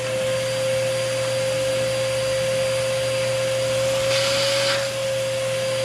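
A shop vacuum pulls debris out of a drilled concrete anchor hole with a steady, close, loud whine and roar, the pitch shifting slightly near the end.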